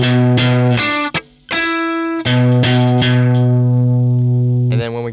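Electric guitar plays the third bar of a riff as a handful of plucked, ringing notes with muted gaps and one sustained note, up close and alone.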